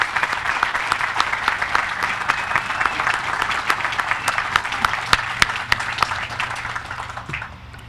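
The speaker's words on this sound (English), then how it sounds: "please give them a big round of applause" Sustained applause from a memorial park dedication audience honoring the Owen family, dense steady clapping for about eight seconds that thins and fades near the end.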